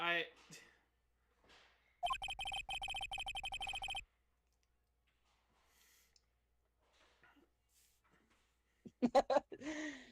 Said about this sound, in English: you held on to that ringtone for a while